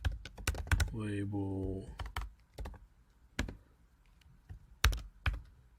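Computer keyboard typing, a scatter of sharp separate key clicks at an irregular pace, near and fairly quiet, with a person speaking briefly at the start.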